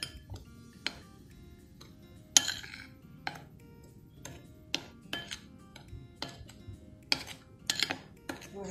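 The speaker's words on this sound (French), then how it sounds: "On mélange." A spoon stirs homemade cocoa powder mixed with cinnamon and salt in a bowl, making scattered sharp clinks and scrapes at irregular intervals over a quiet background.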